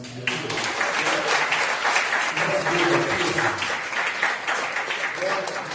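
A church congregation applauds during a Tuesday service, dense continuous clapping from many hands filling the room, with voices calling out over it.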